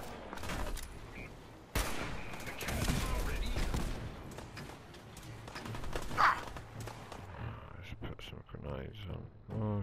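Cannon fire in Fallout 4 during a robot pirate ship battle: heavy booming blasts and thuds burst out repeatedly across the scene, loud and close, mixed with other gunfire under ongoing talk.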